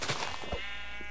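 A Minecraft sheep bleats once, a close, sustained wavering bleat that hangs on and then fades out alone.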